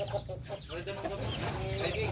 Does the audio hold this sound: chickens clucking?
yes